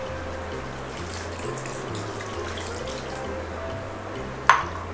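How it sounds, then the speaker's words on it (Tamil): Water from a tumbler poured into a pot of chicken curry, a quiet, steady liquid trickle under a low background hum, ending in a short sharp clink. "ஒரே ஒரு டம்ளர் மட்டும் தண்ணி ஊற்றிடுவோம்"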